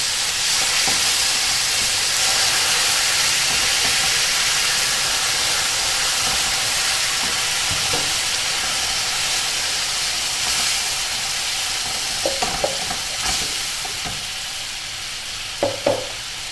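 Beef stroganoff broth and white wine sizzling in a hot pan, a steady broadband hiss running throughout with a few brief clinks and stirring scrapes near the end, close and fairly loud with no talk.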